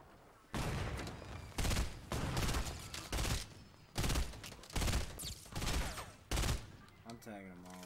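Repeated bursts of gunfire in Fortnite, roughly eight loud volleys spaced about half a second to a second apart, each a dense crackle of rapid shots, with a brief voice at the end.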